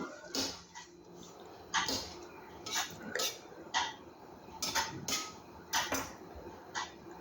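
A knife chops garlic and green chili on a board, with about a dozen separate sharp, close cuts in an uneven rhythm over a low background hiss.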